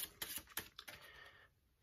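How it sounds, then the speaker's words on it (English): Playing cards being shuffled together for a card game, a quiet brief riffle of several quick snapping bursts that fade into near silence. "You're gonna shuffle them up together."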